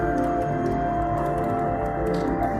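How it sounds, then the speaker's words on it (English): Sonified James Webb Space Telescope data of a star-forming region in the Carina Nebula, with stars rendered as tones: a dense, continuous layered drone of sustained pitches and shimmering upper tones at steady loudness, no voices. "this is a scan of data sonified of a birthing sector"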